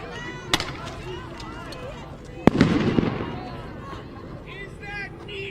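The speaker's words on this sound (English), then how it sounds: "The things that they shoot are like flashbangs that explode in the sky" Flashbang diversion devices exploding at a street protest, two sharp loud bangs a couple of seconds apart amid crowd noise and shouting voices.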